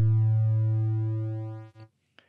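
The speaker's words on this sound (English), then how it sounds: "So I'll set oscillator 2 to a triangle waveform," A synthesizer oscillator set to a triangle waveform sounds one plain, steady low tone that fades out, followed by two brief faint clicks.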